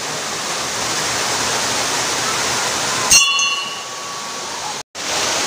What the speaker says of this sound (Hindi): तो आप देख पा रहे हैं यहाँ से निकल रहा है वाटरफॉल, कितना सुंदर